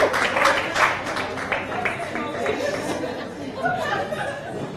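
Audience at a live social impact summit event claps and chatters in a steady wash of applause, with a few laughs and voices mixed in throughout.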